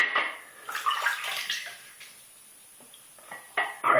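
Water is added to a shaving brush while lathering Palmolive soap, producing soft splashes and trickles in short bursts, faint and close, separated by a quiet pause before a final splash.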